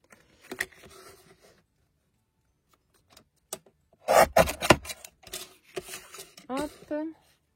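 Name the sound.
paper guillotine trimmer cutting straight edges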